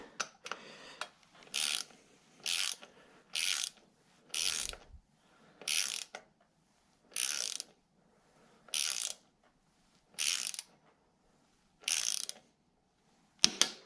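Torque wrench ratcheting on a bicycle eccentric bottom bracket bolt, about ten evenly spaced short clicking bursts, close and clear with quiet gaps between each stroke.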